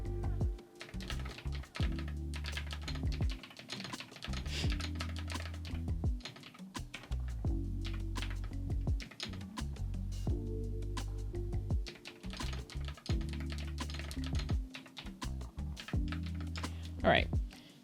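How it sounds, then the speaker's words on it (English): Rapid typing on a computer keyboard, close and clear, with clattering bursts of keystrokes separated by short pauses throughout. "Excuse me while I type and I'll read it to you after I finish."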